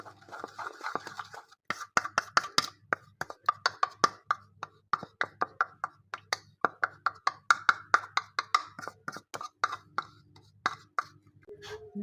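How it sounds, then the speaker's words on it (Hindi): Hot ghee worked by hand into maida flour for kachori dough, giving a long run of quick, close rhythmic pats, squeezes and scratchy rubbing with brief pauses and no talking. "इस पर हम डालेंगे 1 टेबल स्पून, हमने मिक्स करना है इसके अंदर मैदे का। अच्छे से हम इसे मिक्स कर लेंगे।"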